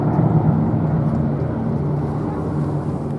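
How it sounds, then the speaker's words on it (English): Sally B, a vintage aircraft at the Duxford air show, drones loudly overhead in a continuous deep, steady engine roar. "Sally B passing majestically overhead en route to the northern hold."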